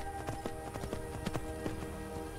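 Horse hooves clip-clopping in the video game Skyrim as a mount climbs rough terrain, a quick irregular run of soft hoof strikes over a steady ambient game hum, fairly faint.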